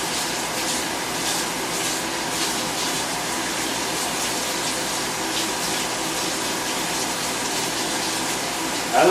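Mussels for paella rinsed under a steadily running kitchen tap, a continuous close gush of water with faint clatter of shells throughout.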